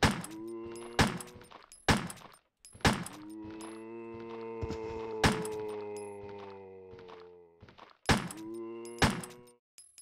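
Gunshots from the Resident Evil PS1 video game ring out as several sharp, loud bangs spread unevenly over the stretch, with a sustained tonal music or ambient drone filling the gaps between shots.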